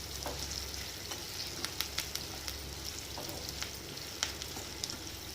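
Onions sauté in a pan for Tamil-style egg gravy, giving a steady bright sizzle with scattered small crackles and pops.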